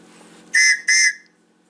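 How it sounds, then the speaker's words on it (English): Two quick, loud blasts on a small survival whistle from a Tops Steel Eagle 105 knife kit, shrill and chord-like, close up with a short gap between them. "So there's the little whistle."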